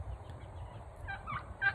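Turkey calls luring hens in the Ozark hollows, a short run of clucks and yelps building to a louder final note over low ambient rumble, with no voices.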